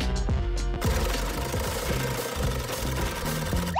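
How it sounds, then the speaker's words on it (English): Cartoon sewing of cut parts together: a steady, loud mechanical rattle with rapid repetitive clatter and thumps, like a running sewing machine, continuing throughout with musical tones underneath. "Let's sew them together."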